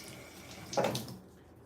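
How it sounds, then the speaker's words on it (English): Fingers are rinsed under a running tap, a faint background flow swelling into a short, brighter splash of water near the middle before fading back to quiet room tone. "I got to rinse my fingers"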